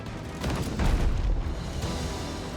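A ship's cannon fires in the naval combat game Abandon Ship, a heavy booming blast with a rumbling tail over steady ambient game noise.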